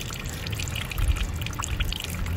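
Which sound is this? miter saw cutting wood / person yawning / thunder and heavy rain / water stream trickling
water stream trickling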